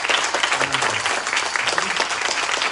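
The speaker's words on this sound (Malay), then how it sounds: "Saya nak minta satu tepukan paling gemuruh untuk Izzat" Loud, sustained audience applause for a guest named Izzat at a Malay-language storytelling session, dense clapping filling the whole stretch with a murmur of crowd beneath.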